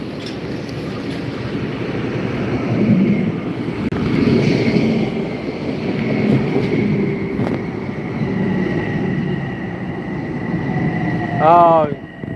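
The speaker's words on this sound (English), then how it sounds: "The train's coming already." A train approaching a station platform, a broad steady rumble with rising wind-like noise that swells and holds throughout, with a brief squeal or horn-like tone near the end and people talking nearby.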